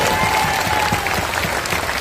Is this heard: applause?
yes